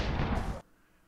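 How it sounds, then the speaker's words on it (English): Explosion in the game Dying Light, a loud, broadband blast that roars for about half a second and then cuts off sharply, leaving a faint low rumble. "both of the gas mask guys died in that horrible explosion that I sacrificed myself in willingly"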